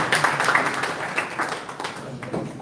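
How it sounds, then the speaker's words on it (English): Audience applause for Victor at a validation event for the Gambia National Enterprise Architecture, a moderate patter of clapping that stays fairly steady for a few seconds and tapers slightly toward the end. "A round of applause, especially for Victor."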